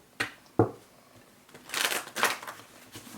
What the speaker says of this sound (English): those don't want to shuffle